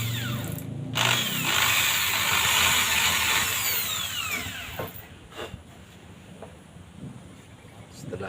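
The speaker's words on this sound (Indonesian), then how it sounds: "Itu kita tanda pakai mesin bor." An electric drill marks an air rifle stock during a cheek rest build, whining loudly at first and then dropping away into quieter handling noise and faint background sounds.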